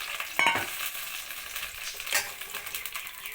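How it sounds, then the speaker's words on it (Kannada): Finely chopped onions fry in a tempering for mutton keema curry, giving a steady soft sizzle with stirring clatter near the start and again around the middle, close and moderately quiet, with no voices. "ಸಣ್ಣಗೆ ಹೆಚ್ಚಿದ ಈರುಳ್ಳಿನ ಒಗ್ಗರಣೆ ಇದ್ದೀನಿ ಈ ಸ್ವಲ್ಪ ಫ್ರೈ ಆದಮೇಲೆ"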